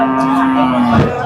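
A single drawn-out cattle moo at the Poigai cattle market rings out close and loud for about a second over a busy crowd murmur, then fades into the surrounding bustle.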